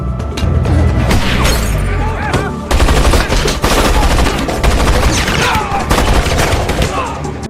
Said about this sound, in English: Tad and his team then get into a shootout with Don's men.